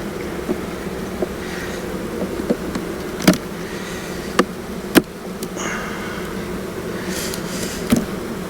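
Honeybees hum steadily around an opened beehive during a honey yard inspection, a dense buzzing drone with scattered sharp clicks and knocks of frames being shifted close by.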